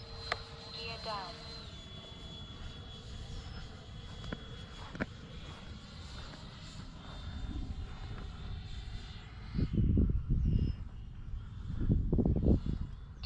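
Freewing Avanti S radio-controlled model jet passing overhead, a high whining turbine tone that sweeps and fades while wind buffets grow louder near the end; a voice speaks briefly at the start.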